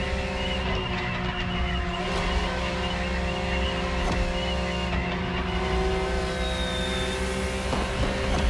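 Race car engine roaring steadily under nitrous boost in The Crew Motorfest, a continuous loud drone with shifting tone and no pauses.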